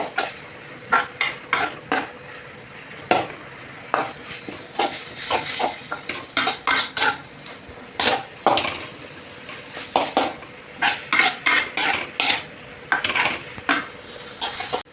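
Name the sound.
sautéing onions and tomatoes in a pan, stirring with a spoon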